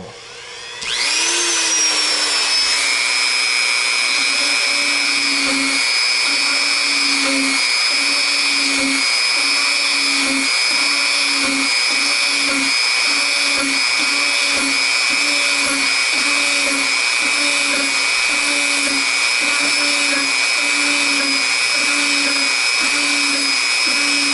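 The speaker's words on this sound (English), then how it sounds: "I'm going to take my Dremel" A high-pitched Dremel rotary tool whines steadily as it spins up and drills into a plastic model, loud and close, with a faint rhythmic pulsing throughout.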